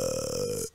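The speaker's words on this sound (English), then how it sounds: "that's like, a burp" A small, short burp with a deep, throaty tone, heard alone for under a second before it cuts off.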